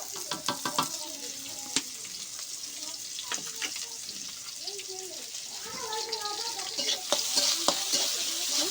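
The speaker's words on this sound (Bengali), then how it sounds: "পেঁয়াজ রসুনটা লাল লাল করে ভেজে নেব" Chopped onion and garlic frying in hot oil in a wok: a bright continuous sizzle with clattering stirs and scrapes, while a voice talks quietly in the background at times.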